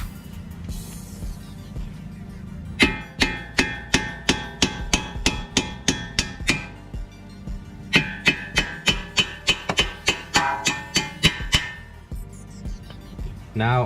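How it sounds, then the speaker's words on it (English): Sharp metallic hammer blows knocking bolts out of the front strut of a 2008-2012 Chevy Malibu, struck in two fast, regular bursts of about a dozen hits each, close and loud over low background noise. "So now I'm going to use my hammer to knock out these bolts."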